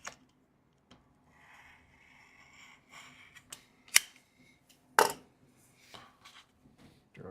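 Scissors cut fabric during a home sewing session, giving scattered close snips and a couple of sharp louder clacks of the blades over quiet handling rustle, no talking.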